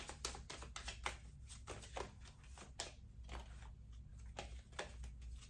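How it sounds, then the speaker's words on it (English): A large deck of tarot-style cards being shuffled, rapid dense riffling and tapping clicks in quick bursts, close and fairly quiet, with no voices. "it takes a minute to shuffle it."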